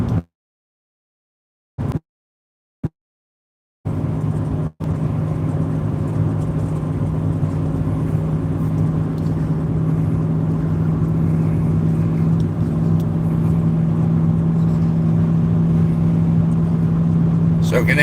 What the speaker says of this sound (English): I am driving a GMC 1500 truck.